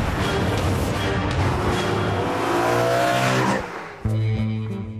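A loud BMW M3 engine revs hard and accelerates with a rising roar, briefly drops off, then surges again with a strong throaty tone.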